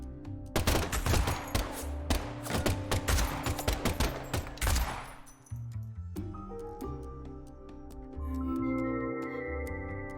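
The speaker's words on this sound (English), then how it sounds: "the last gunshot we heard sounded ominous, Zack." Rapid gunfire in the video game Deadly Premonition 2, a dense loud fusillade of repeated shots for several seconds that cuts off into low droning music and tones, with no talk.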